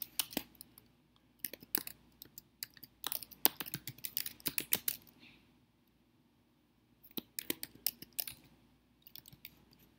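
Typing on a Mac keyboard while renaming files: close, crisp key clicks in irregular bursts, then a quiet pause of about two seconds before a final run of taps.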